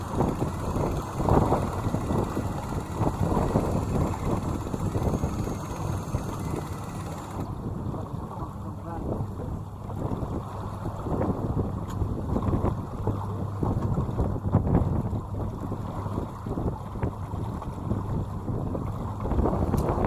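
Strong wind of a 20 to 30 knot gale roars across a sailboat at sea, a loud, continuous blustery rush buffeting the microphone with water and hull noise beneath, and no talk.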